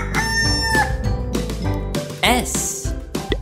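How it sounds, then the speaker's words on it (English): A rooster's loud cock-a-doodle-doo crow rings out over busy background music in a children's animal learning song. "Rooster."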